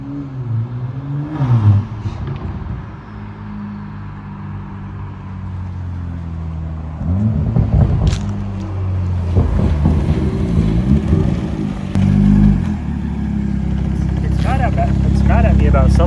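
A 2023 Toyota Supra drives toward the listener with its engine revving loudly in bursts, the roar rising and falling, while people talk nearby over wind buffeting the microphone.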